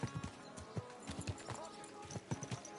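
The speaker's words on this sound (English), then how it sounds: "Easy, good horse." Horse hooves clip-clop in a video game, a steady walking rhythm of close, distinct knocks with faint game sounds beneath.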